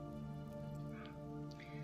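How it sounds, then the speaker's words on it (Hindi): Rain falling steadily and heavily as a constant wash of drops, close and fairly loud throughout under a low steady hum, with no voices. "कुछ दूर बढ़ते ही बारिश तेज हो गई।"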